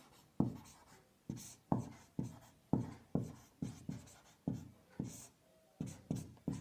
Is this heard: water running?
no